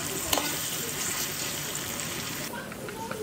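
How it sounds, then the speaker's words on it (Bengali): Onion and green chili frying in hot oil in a pan, a close continuous sizzle with faint stirring scrapes, a steady hiss throughout. "কাঁচামরিচ আর পেঁয়াজটা কিছুক্ষণ নাড়াচাড়া করব"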